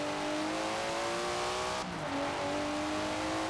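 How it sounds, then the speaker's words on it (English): Modified Datsun engine in Forza Horizon 4 revving hard, a steady high-pitched whine that dips abruptly at a gear change and then climbs again, loud and close with no talk. "Never heard a Datsun sound like that, have you?"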